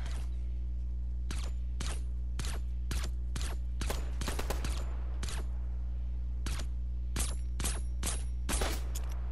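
Repeated sharp shots from an exotic marksman pistol in Fortnite, a video game, fired in uneven bursts and single cracks over a steady low hum, loud and close.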